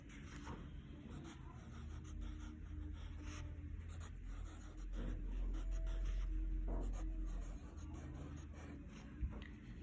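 A pen scratching across paper as someone writes by hand, a soft continuous rubbing at low level, close and quiet, with no voices.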